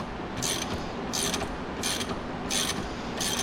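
A ratchet wrench turned on a part of a 2006 Acura TL, giving five evenly spaced bursts of rapid clicking, close and fairly loud, with no talk over it.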